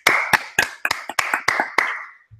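One person clapping hands at an NFL Thursday night game between the Eagles and Panthers, about eight sharp, close claps in an uneven rhythm, clear and alone with no talk.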